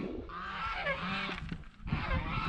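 Geese on a farm honk loudly and continuously in a close, clamorous flock, the calls overlapping without a break.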